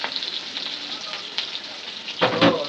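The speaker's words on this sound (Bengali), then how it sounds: "পেঁয়াজ মরিচটা ভাজা হয়ে গেছে" Onion and chili sizzle loudly in a pan for a Bangladeshi fish curry. The frying hiss is constant and close, with a burst of stirring and scraping near the end.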